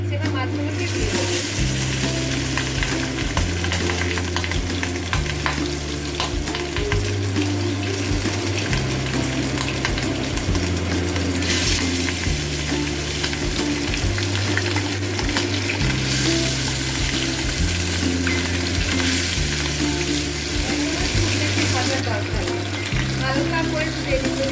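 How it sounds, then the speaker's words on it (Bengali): Tangra fish fry in hot mustard oil in a pan with a steady, dense sizzle that runs throughout, heard under rhythmic background music. "সর্ষের তেলটা একটু গরম হয়ে গেছে। এবার মাছগুলোকে দিয়ে দেবো।"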